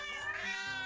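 A short, high, drawn-out cat meow from the video game Cat President, clear and close with a faint background hum.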